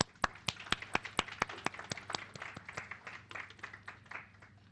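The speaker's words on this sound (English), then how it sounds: "let us give them a thunderous applause to welcome them" A university lecture audience claps to welcome speakers, starting with a few loud, sharp, separate claps close by that quickly thicken into a looser, softer patter of many hands.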